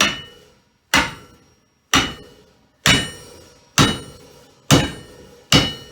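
An axe head is driven onto its thinned handle with six sharp, ringing metallic strikes, evenly spaced, each bouncing and decaying into a short silence, loud and close with no talking.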